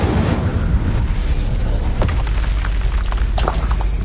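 A fiery Incendio spell cast in Hogwarts Legacy: a loud, continuous roaring burst with deep rumble, a sharper crackling flare around the middle and another bright flare near the end.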